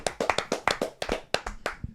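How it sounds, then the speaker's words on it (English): A small group claps in a short round of applause at a golf equipment signing announcement, sharp distinct claps in a quick irregular rhythm, close and clear with no talking. "Join us in a round of applause"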